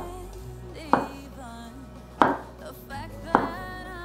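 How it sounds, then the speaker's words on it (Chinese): A knife slices shiitake mushrooms on a cutting board in three distinct, evenly spaced chops over a quiet background hum, with no speech. "把香菇的角切下来，切片。"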